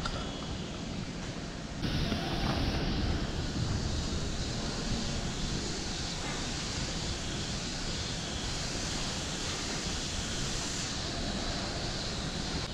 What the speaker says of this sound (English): the wind's blowing good too